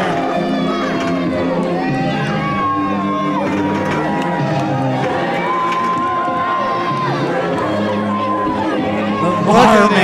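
A loud wrestling arena crowd cheering and shouting for a wrestler, dense sustained roar with whoops, overlaid by a commentator's voice talking throughout.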